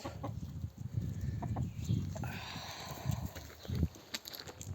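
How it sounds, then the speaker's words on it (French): A hen clucks and murmurs in short, low bursts close by, with scattered farmyard noise and rustling around it. "Donc ça c'est une poule qui discute."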